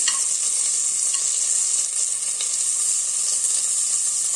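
Onions fry in ghee with a steady, close sizzling hiss and faint stirring scrapes, unbroken and with no voices.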